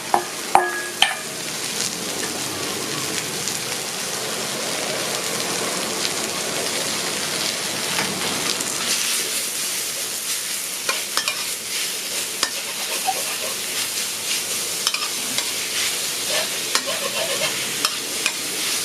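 Steady sizzling and scraping of minced pork being stir-fried in a hot wok, a constant crackle with occasional metallic clinks from the spatula.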